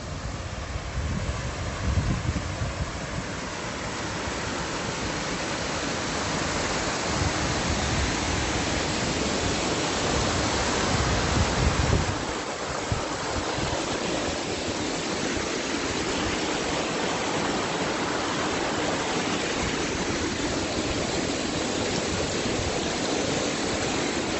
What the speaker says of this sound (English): This is a different little river.